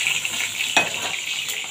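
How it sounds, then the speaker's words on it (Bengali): Eggplant slices sizzling in hot oil in a home kitchen, a steady broadband frying hiss with a brief louder crackle as a piece hits the pan, close and continuous, no talking. "তেল গরম হয়ে গেছে, বেগুনটা ছেড়ে দিই।"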